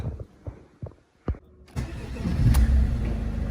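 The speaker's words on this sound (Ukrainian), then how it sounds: "І покажу, як працює двигун." A Mercedes W203 with a 646 diesel engine, 303,000 km on it, sitting at a dismantler, cranks and fires up after a few short clicks, then settles into a loud, steady diesel clatter close by.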